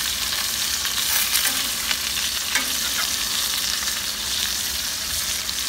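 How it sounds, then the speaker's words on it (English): A cowboy ribeye steak sears in a hot pan, producing a loud, continuous sizzle and crackle throughout with occasional sharper pops, up close and without talk. "sear this sucker in a pan here"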